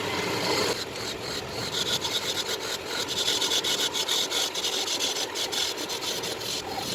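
Wooden blanks being cut for a segmented bowl, a rough, rhythmic sawing and rasping of wood that repeats steadily and close by throughout.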